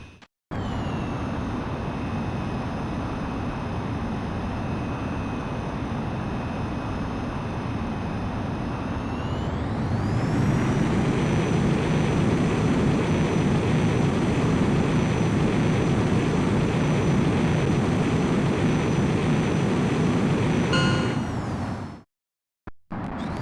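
A jet fighter in Ace Combat X idles with a whining turbine, then spools up sharply into a roaring takeoff thrust that holds loud and steady before cutting off abruptly near the end.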